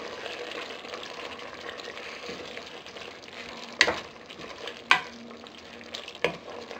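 Ginataang puso ng saging, banana heart cooked in coconut milk, being stirred in a pan, with a steady soft sizzle broken by a few sharp clinks of the spoon against the pan.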